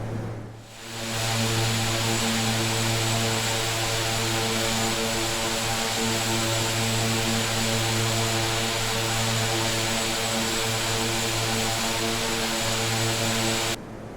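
Aircraft engine droning steadily during the climb after departure, a loud continuous hum with a constant pitch, heard close from inside the cabin.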